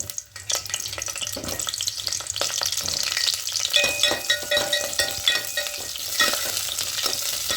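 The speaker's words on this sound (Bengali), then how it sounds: "প্রথমে ফুলকপিগুলোকে একটু হালকা করে ভেজে নেবো" Cauliflower florets fry in a pan of white oil and ghee, with continuous crackling sizzle and repeated stirring scrapes, close and fairly quiet, with no talking.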